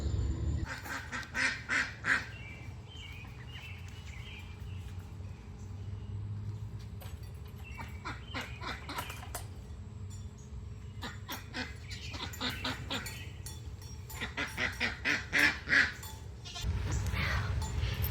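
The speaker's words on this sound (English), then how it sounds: "around here we let the ducks run loose." Ducks running loose at a school garden quack repeatedly in bursts, mixed with bleating farm animals, fairly close, with low rumbling background noise between the calls.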